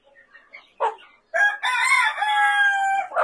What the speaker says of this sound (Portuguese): Ela é uma galinha maior, bem maior.